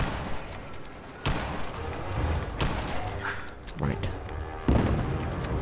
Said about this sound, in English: I don't remember there being explosions here.